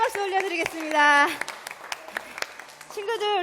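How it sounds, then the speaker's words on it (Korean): A congregation at a church worship service claps in a short burst of applause that rises and fades, with sung and spoken voices over it and a few loose claps afterward. "우리 하나님께 영광의 박수 올려드리겠습니다."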